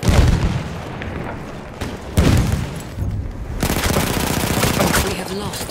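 Dense Battlefield 1 combat at Fao Fortress: continuous machine-gun fire and rifle shots with booming grenade explosions, loud and chaotic, with shouted voices mixed in.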